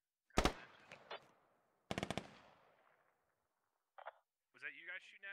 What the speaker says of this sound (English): Was that you guys shooting at us?